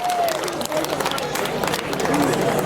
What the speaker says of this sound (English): Ladies and gentlemen, how about a round of applause for Tony?